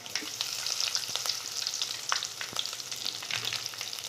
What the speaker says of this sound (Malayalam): കടുകിട്ട് പൊട്ടിക്കഴിയുമ്പോൾ നമുക്ക് വേപ്പില ഇട്ട് കൊടുക്കാം.